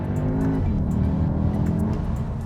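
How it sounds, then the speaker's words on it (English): A 2021 Audi SQ2 engine snarls loudly and close up as it accelerates hard out of a hairpin. Its tone climbs steadily under a rough, gritty exhaust note. "it's just kind of a snarly engine, but yeah, you can still enjoy it"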